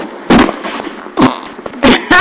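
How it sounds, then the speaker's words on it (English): Three loud, spluttering farts in quick succession, the bursts coming roughly every second, with no talk over them. "I farted"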